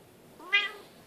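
A house cat gives a single short, close meow, clear and alone against a quiet room.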